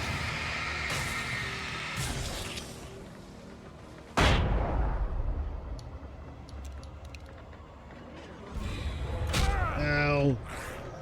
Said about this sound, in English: I can probably take all of these out with a single flashbang.